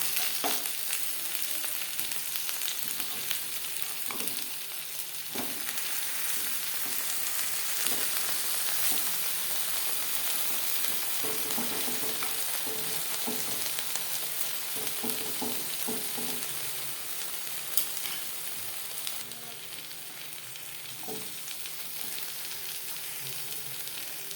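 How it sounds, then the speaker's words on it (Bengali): Masoor dal paturi wrapped in bottle gourd leaves fries in oil in a pan, giving a steady close sizzle throughout with occasional soft clicks and scrapes as the parcels are turned. "একটা সাইড ভাজা হয়ে গেলে অপর সাইডটা উল্টে দেবো"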